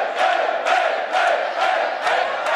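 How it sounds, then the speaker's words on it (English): Loud crowd noise at a live singles pro wrestling match in Switzerland, sustained applause and cheering swelling in rhythmic surges, dense and continuous throughout with no clear voice standing out. "Roaring applause in here"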